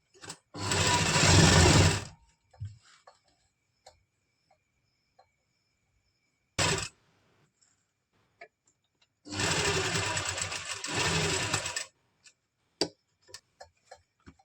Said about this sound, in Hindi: इसका जो आसन का ये एरिया है इसको हम स्टिच कर लेंगे